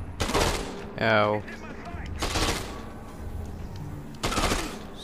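Three loud bursts of rapid machine gun fire from an enemy in the Dead Rising 2 video game, spaced about two seconds apart. A short pained cry comes between the first and second bursts.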